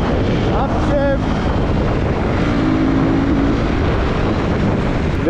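A Husqvarna Vitpilen 250 motorcycle engine drones on the move, heavily buried in constant roaring wind noise, with brief rising and falling engine tones as gears shift, and a voice talking over it.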